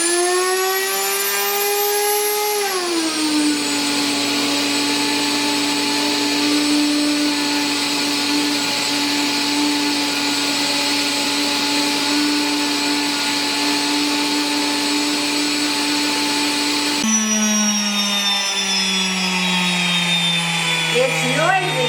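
A Bosch electric wheat grinder runs steadily at a loud, high-pitched whine. Its pitch drops early as the motor settles under load, and a shift near the end changes the tone.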